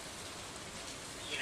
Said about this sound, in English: Since it is raining,